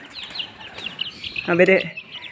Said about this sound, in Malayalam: ഇത് നമ്മുടെ നാടൻ കോഴി, അടയിരിക്കുന്ന കോഴിയാണ്